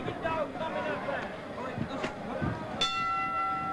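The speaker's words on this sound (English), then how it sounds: "So there is the bell, and we're underway." A ring bell sounds to start a classic Gulf Coast Wrestling match, a sharp metallic clang near the end that rings on with a sustained tone, preceded by crowd noise and an announcer talking.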